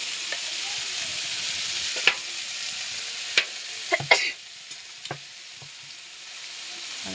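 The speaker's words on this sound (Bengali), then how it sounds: "আর পরিমাণ মতো নুন দিয়ে ভালো করে মশলাটাকে কষে নেব" Tomato, cumin, ginger and green chili paste frying with turmeric for palak paneer, a steady bright sizzle with a few sharp spatula knocks and scrapes near the middle, then easing to a quieter hiss; close, with no talking.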